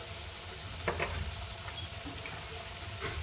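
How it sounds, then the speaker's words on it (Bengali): Diced potatoes fry with turmeric in an oiled pan, giving a steady quiet sizzle with a few brief stirring scrapes and no talk. "এর মধ্যে যে ডুমো ডুমো করে আলুগুলো কেটে রেখেছিলাম সেগুলোকেও ভেজে নেব।"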